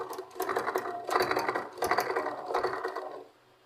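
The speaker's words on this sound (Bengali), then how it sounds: "এই যে দেখেন আমাদের মেশিনে কিন্তু এখন সেলাই হচ্ছে" A sewing machine, its timing just fixed after skipped stitches, runs in four quick bursts of rapid rattling stitching, close and clear, then stops.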